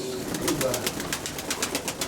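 Vaccinated pigeons for sale, dark and coffee-coloured birds among them, give soft cooing calls mixed with rhythmic wing flutters or pecking, close and moderately loud.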